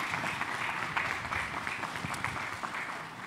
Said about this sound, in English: can we just take a moment to give Wayne and his staff a round